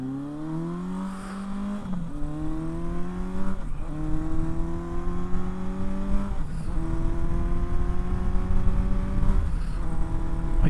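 A heavy four-cylinder motorcycle of about 460 pounds revs up through the gears, its engine note climbing steadily and dropping at each of several shifts, loud and close throughout.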